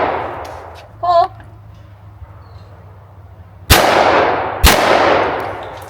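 A Blaser over/under shotgun fires two loud, close blasts at clay targets about a second apart, each with a long rolling echo, after a brief shouted call outdoors.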